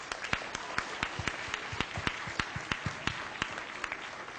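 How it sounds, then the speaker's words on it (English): A crowd at a school assembly gives a round of applause: dense, sustained clapping heard from a little distance, with a few sharper individual claps standing out. "could we please have a round of applause for having this special gift brought to us"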